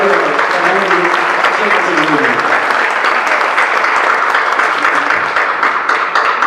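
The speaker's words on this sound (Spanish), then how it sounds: "un aplauso" Audience applause at a centenary tribute event for songwriter Álvaro Carrillo, a full, continuous wash of clapping with a few voices murmuring beneath it early on.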